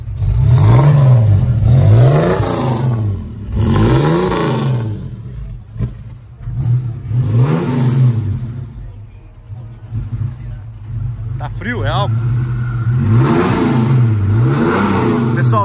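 A 1987 Chevrolet Opala Diplomata engine revs close by in repeated rising and falling bursts, separated by brief idle dips, while people talk over it.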